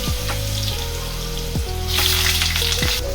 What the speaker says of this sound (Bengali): এই আলু পটলটা ভাজছি